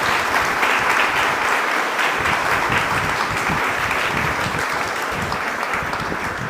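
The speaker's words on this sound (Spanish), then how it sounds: "Vamos a darle un aplauso al Padre Víctor que nos acompaña hoy" Church congregation at a Mass applauding a visiting priest, a loud, steady wash of many hands clapping that fills the whole stretch without talk.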